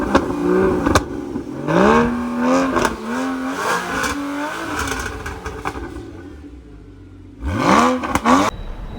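A sports car engine blips and revs in several sharp bursts, pitch sweeping up and down between short pauses, with a final strong rev near the end, close and loud.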